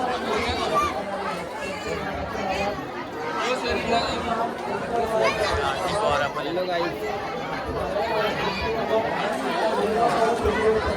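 Dense crowd chatter fills a packed temple feast where people sit down to eat, a steady loud babble of many voices throughout with nearby talk mixed in.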